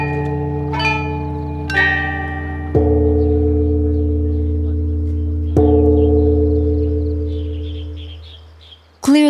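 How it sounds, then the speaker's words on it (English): Ancient Chinese chime bells ring out a melody on the upper bells over deep accompaniment from the giant bells below. Several loud, separate strikes leave long, shimmering resonant tails that slowly fade between the notes. "The melody is played on the top bells, the accompaniment on the giant bells below."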